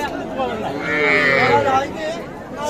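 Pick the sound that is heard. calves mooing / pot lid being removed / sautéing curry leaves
calves mooing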